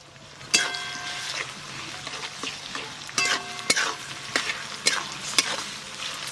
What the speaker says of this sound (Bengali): এবার আদা রসুন বাটা, টমেটো একসঙ্গে দিয়ে ভালো করে ভাজবো।